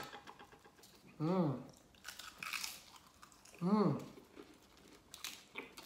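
Crunchy bites into a crispy cheese naan dipped in shrimp sauce, two loud crackling bites about two seconds apart, with a voice talking between them.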